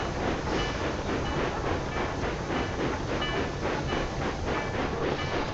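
Train running on rails in the railway strategy game Railway Empire 2, a steady rolling rumble with faint rhythmic clickety-clack, loud and continuous throughout with no voices.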